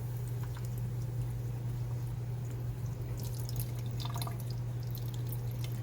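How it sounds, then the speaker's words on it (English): Water draining out of a brine shrimp hatchery, a steady trickle with occasional drips over a constant low hum, continuous and close. "And this is draining out all the water"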